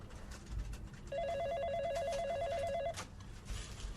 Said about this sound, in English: Isn't anybody going to answer that bloody phone?